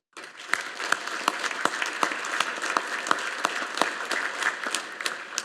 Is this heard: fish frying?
no